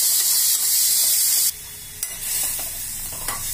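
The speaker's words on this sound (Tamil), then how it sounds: "இறாவை தண்ணி இல்லாமல் பிழிஞ்சு இதில் போட்டு வதக்கிக்கலாம்." Prawns, squeezed free of water, sauté in a pan with a bright sizzle and stirring scrapes, the hiss dropping and shifting partway through as they are moved about.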